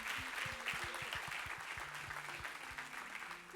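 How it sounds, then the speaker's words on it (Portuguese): Faint applause from a church congregation during an evening service, steady clapping throughout with a low repeated rhythmic thumping underneath, distant and quiet. "Eu gostaria que você desse uma salva de palmas por esse ministério abençoado"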